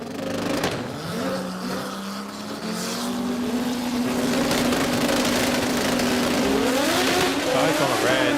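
A rotary-engined Mazda RX-7 makes a pass at a drag racing event, its engine droning and rising in pitch steadily, loud and sustained under a commentator's voice.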